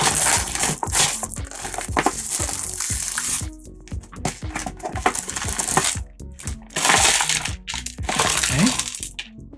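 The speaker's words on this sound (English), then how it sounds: "first open the package as usual." Plastic wrapping is torn and crinkled open on a package of Japanese UFO instant yakisoba noodles, with loud close crackling and rustling bursts separated by a few short pauses.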